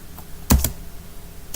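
Keys tapped on a computer keyboard in a few crisp, close clicks: a quick pair near the middle and one more at the end, with quiet pauses between and no speech.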